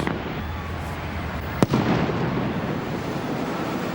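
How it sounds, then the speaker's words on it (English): A single sharp firework bang cracks out over a dense, continuous crackle and rumble of ongoing fireworks at Tivoli in Copenhagen. "A busy day in Tivoli always concludes with dazzling fireworks."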